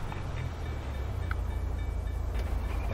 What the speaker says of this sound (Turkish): Bu arada tren de geliyor.